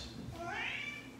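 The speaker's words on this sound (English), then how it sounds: "He's meowing his way to millions." A cat meows in one drawn-out, rising and falling call, close and fairly clear over a low background hum.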